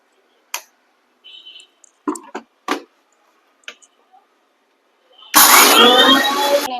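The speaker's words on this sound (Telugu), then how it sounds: "సో ఇప్పుడు ధనియా పౌడర్ మిక్సీ పట్టుకుంటున్నాను, కొంచెం చల్లారింది" A mixer grinder starts up and grinds roasted coriander seeds into powder, a loud, dense whirring roar that begins abruptly after a few sparse clicks and knocks in a home kitchen.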